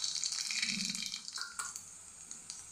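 Mustard seeds sizzle in hot oil with garlic while cooking capsicum masala bhaji, giving a steady close hiss dotted with small crackles and pops, with no talk.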